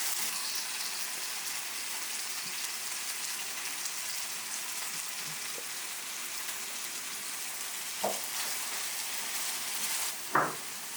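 Steady frying sizzle of onions in butter in a pan fills the clip, a constant crackling hiss with a couple of sharper pops near the end, fairly close and with no talking.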